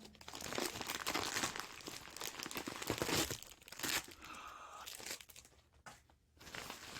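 Taped Amazon package torn open, giving dense crinkling and ripping of cardboard and plastic up close, with brief pauses and a final tearing burst, and no speech.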